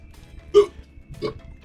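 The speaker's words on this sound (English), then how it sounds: "I got the hiccups now, which is a side effect of this anti-smoking spray." Two separate hiccups, attributed to an anti-smoking spray's side effect, sound close and fairly loud: a sharp one, then a softer one about half a second later, over a quiet room.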